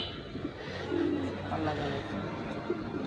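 Girebaz (Bengali tumbler) pigeons on a pigeon farm coo softly in short low calls amid background voices and outdoor murmur.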